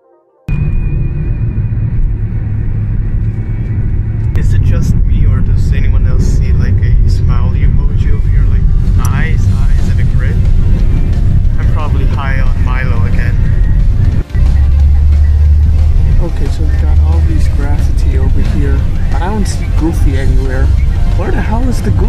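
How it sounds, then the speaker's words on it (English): Traffic outside an airport in Thailand makes a loud, constant rumble of engines and passing vehicles close by, with a voice talking over it throughout. "So I just came out of the airport."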